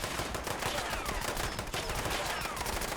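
Dense automatic gunfire from a Fallout 76 firefight, rapid overlapping shots from enemies firing through walls, loud and continuous with no pauses.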